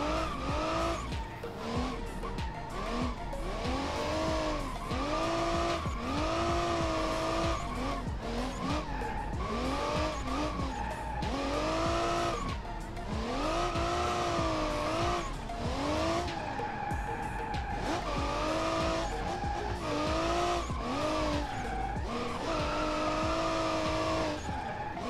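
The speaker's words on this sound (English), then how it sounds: "This is what we can call like a satisfying drift car game." Continuous loud tire squeal from a car drifting in a drift racing video game, with engine revving rising and falling in sweeping waves throughout and no traffic around.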